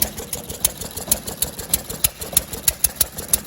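An 80-year-old engine running rich with its governor held wide open gives a fast, steady knocking beat of sharp, evenly spaced pulses, heard close and alone.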